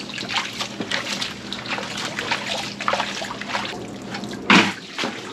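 Water sloshing and trickling in a gold pan while sluice box material is panned down, with irregular close splashes and one louder slosh near the end.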